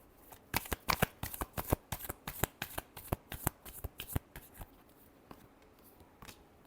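Tarot cards being shuffled by hand, a quick run of crisp riffling snaps and flutters close up, thinning to a few scattered flicks, with no voice.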